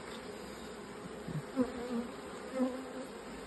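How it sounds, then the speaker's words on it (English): A wasp buzzes around a beehive on a pollen-rich day, a faint drone with a few brief louder passes as it flies close, and a person briefly speaks. "There was a pesky wasp there."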